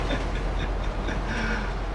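A train rolls past in the GTA 5 video game, a steady, dense rumble with faint rail clatter that fills the whole two seconds without letup.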